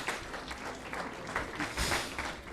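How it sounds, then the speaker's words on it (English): Applause from an audience at a Zoroastrian evening prayer gathering, steady broadband clapping that swells near the end and fills the whole span without talk. "Please give him a round of applause."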